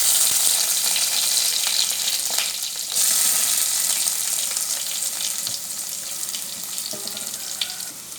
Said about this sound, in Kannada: ಕರಿಬೇವು, ಬೆಳ್ಳುಳ್ಳಿ, ನೀರುಳ್ಳಿ ಒಗ್ಗರಣೆ ಪಾಡೋದು